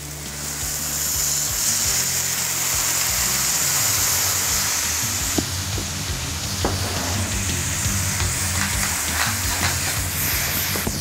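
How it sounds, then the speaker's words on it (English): Bourbon poured into a hot pan of browned meat fond for a braise hisses and sizzles in a loud, steady wash that fades slightly, with a few clinks and stirring knocks near the end and no speech. "You're gonna add a little bit of bourbon."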